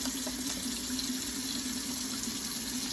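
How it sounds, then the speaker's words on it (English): Water runs from a kitchen tap in a steady, even stream as hands are washed after touching raw meat, heard close and continuous with no talking. "Wash my hands because I was touching the raw meat."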